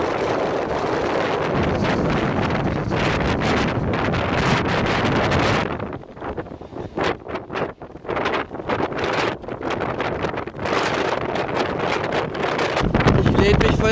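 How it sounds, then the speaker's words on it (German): Strong wind on the island of Sylt roars and buffets the microphone in heavy, continuous gusts, dropping briefly midway into choppier bursts before surging back loud and close. "Ich lehne mich voll gegen den Wind."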